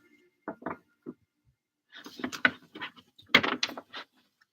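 Cards are shuffled up close in quick riffling bursts and soft slaps, with short pauses between them.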